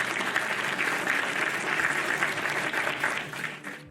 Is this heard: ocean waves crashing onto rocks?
no